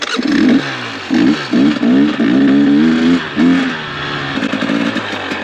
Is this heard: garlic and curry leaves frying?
no